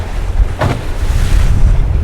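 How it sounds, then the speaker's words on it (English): Waves wash and surge over coral against a background of heavy wind rumble, heard from a sailboat, with one brief splash standing out in the middle. "Few waves here."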